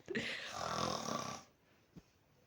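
A loud snoring rumble from a sleeping character in a Minecraft game, one long drawn-out snore of about a second and a half, followed by quiet and a short faint thump.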